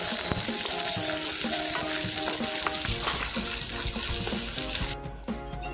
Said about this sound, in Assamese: পিঁয়াজখিনিও ভালকৈ ভাজি লম